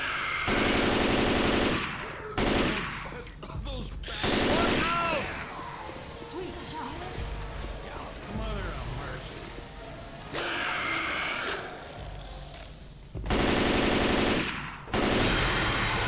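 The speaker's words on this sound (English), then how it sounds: "Oh, I shot through the wall." Left 4 Dead 2 gameplay brings loud, sustained automatic gunfire in several long bursts, with quieter game sounds and a talking voice in the gaps between them.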